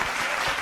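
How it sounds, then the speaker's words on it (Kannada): Audience members on their feet applauding at a televised Kannada singing show finale, a dense, steady wash of clapping throughout with no voices. "ಎದ್ ನಿಂತು ಚಪ್ಪಾಳೆ ಹೊಡಿತಾ ಇದ್ದಾರೆ"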